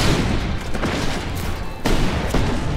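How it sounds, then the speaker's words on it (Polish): Explosions and gunfire in the open-world action game Just Cause 3, a dense continuous barrage of blasts and shots at high level with a sharp break and fresh burst near the end. "To ja tu jestem od robienia wybuchów."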